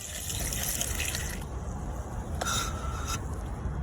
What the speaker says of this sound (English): this is how they remove water in the holes on golf courses